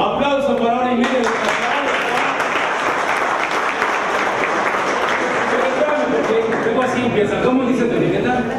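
Sustained audience applause from a group gathered in a reflection circle, loud and close, with dense clapping running throughout and voices mixed in underneath.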